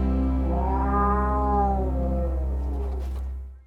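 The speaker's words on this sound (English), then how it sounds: "Steph's back at the practice with Boris, the cat who broke one of his 3 legs, which Peter tried to fix in surgery." A three-legged cat with a broken leg meows in a long, drawn-out, wavering cry close by, fading away at the end, with no talk.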